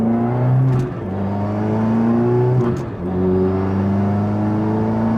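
A Subaru WRX running a valet map accelerates under turbo boost, its engine note climbing steadily in pitch and loudness, with a brief dip at a gear change partway through, heard close from inside the car.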